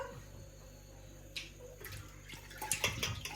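A small child splashes and plays with tap water in a home kitchen while dinner cooks, with gentle trickling and sudden louder splashes building toward the end.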